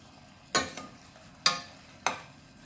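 Carrots are stirred into shrimp curry in a pan: three distinct scraping strokes of a utensil against the pan, close and evenly spaced, over a soft background hiss.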